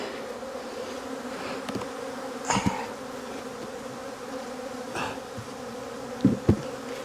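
A continuous buzzing hum of many honey bees around a hive fills the air during spring hive box setup, broken by occasional clicks and brief louder bumps nearby.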